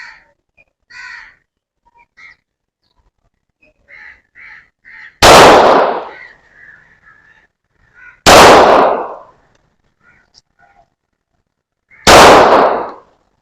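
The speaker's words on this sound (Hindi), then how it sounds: "सिंगल हैंडेड फायर करते हैं।" Three loud, sharp gunshots from a Taurus G3 pistol ring out several seconds apart, each with a brief echoing tail, while crows caw in the background between the shots.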